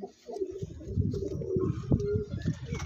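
Several Andhra pigeons for sale in Bagnan coo in overlapping, throaty rolls, a close, steady chorus lasting a few seconds without any speech.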